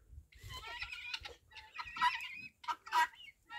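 Chickens and guinea fowl cluck and chatter inside a henhouse, a busy run of close, overlapping squawks and bursts of calls with short pauses between them.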